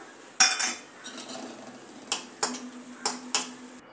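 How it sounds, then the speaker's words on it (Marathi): Raisins are fried in a pan for Nashik-style Kondaji chivda, with a handful of sharp metallic clinks and scrapes of a spoon against the pan over a faint background of frying oil. "आता यात मनुके तळून घेऊ।"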